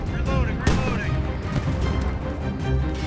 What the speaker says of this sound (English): So I covered my buddy as he shot at that thing.